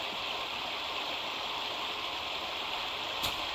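A steady stream burbles and rushes on the Battle Creek map in Halo: The Master Chief Collection, a continuous, even wash of flowing water heard close with nothing else over it.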